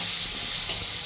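Red chili chutney sizzles steadily in hot oil in a pan, with soft stirring scrapes over a constant bright frying hiss.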